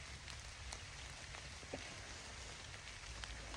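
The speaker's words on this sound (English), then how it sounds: "I'm out here in the rain" Steady rain falls outdoors, making a dense, even hiss with scattered individual drops tapping on surfaces, faint and continuous without any voices.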